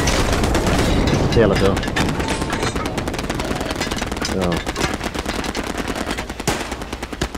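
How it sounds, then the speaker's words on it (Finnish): Heavy gunfire in the video game Hell Let Loose: dense bursts of machine-gun and rifle shots crack continuously, loud and close, while players speak briefly over the firing. "Ammu sinne pari lautetta."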